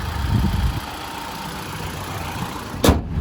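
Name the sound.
2018 Mitsubishi ASX manual car engine idling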